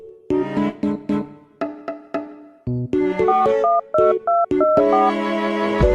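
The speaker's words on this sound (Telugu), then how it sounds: "పండుగాడికి కాల్ చేద్దాం." Telephone keypad tones sound as a number is dialed on a phone, a rapid series of short distinct beeps in quick succession, some clustered and some spaced, with no talking.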